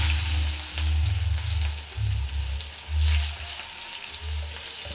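Small shallots fry in hot oil with mustard seeds in a pan, giving a close, loud, continuous crackling sizzle that swells and eases in waves, with no talking.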